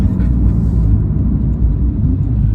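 A 2017 Porsche 911 Carrera engine under hard acceleration gives a loud, steady low rumble close up inside the car, continuous for the whole stretch with no talking.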